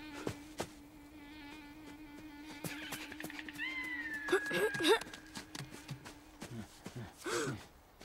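A cat meows in an animated 2017 film, a few rising cries heard fairly close amid rustling, thumps and a voice calling for it.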